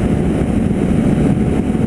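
Zontes R310 motorcycle pulling hard uphill in sixth gear, a steady dense engine roar with wind rush, loud and continuous throughout without pauses.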